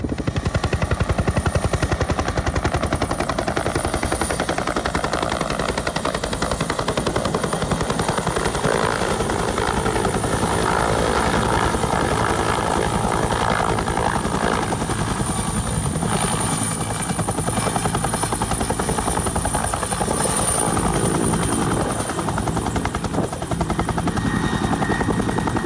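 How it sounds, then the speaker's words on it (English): Bell 212 fire attack helicopter approaching from a distance, its steady rotor chop throbbing continuously and fairly loud throughout, with no voices over it. "We've got a Bell 212 fire attack helicopter coming in."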